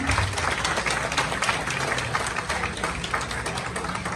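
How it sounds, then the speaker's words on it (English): Dense, continuous clapping from a crowd at a startup summit in Ghana, a steady wash of applause holding at an even level throughout with no talk over it. "Please, if you are here, let's clap for you."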